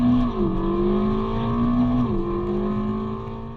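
A Ferrari California T with a turbocharged V8 idles loud and close, blipping twice into brief revs that quickly settle back, then slowly fading.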